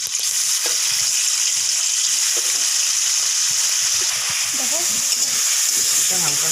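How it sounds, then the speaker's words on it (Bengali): Prawns sizzle lightly in a hot pan, a steady loud hiss of frying oil with scattered crackles and pops throughout, no voices present. "এখন চিংড়ি মাছগুলো হালকা ভেজে নেব।"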